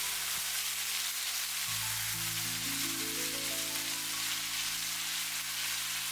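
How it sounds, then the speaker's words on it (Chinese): Marinated lean pork slices stir-fry in a hot wok with a steady, bright hiss of sizzling that runs throughout. Soft sustained musical tones play underneath. "接下來下入醃製好的瘦肉，快速翻炒均勻"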